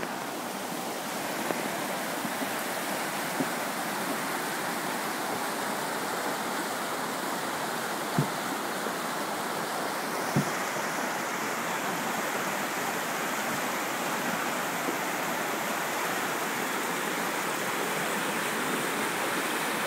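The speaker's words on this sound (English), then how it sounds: "That's actually the water pushing stones in the water." Steady, loud rushing of an Alaskan creek flows continuously, with a few faint knocks of stones pushed along by the water underneath the thunder-like roar.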